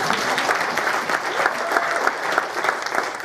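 An audience at a university reading series claps steadily throughout, a dense, fairly loud wash of many hands with no break, and no voices come through over it.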